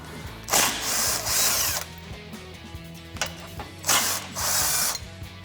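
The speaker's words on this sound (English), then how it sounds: "I'm going to take my 17mm on my gun and remove these two bolts" An impact gun with a 17mm socket removing tow hook bolts on a Toyota Tundra, giving two loud rattling bursts of hammering, each split into two pulses, with a quiet gap between them.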